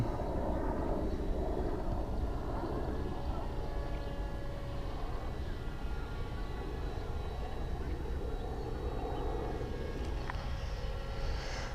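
A paramotor engine drones steadily and loudly through a first flight after a reverse launch, a continuous close buzzing hum with slight shifts in pitch as the throttle changes.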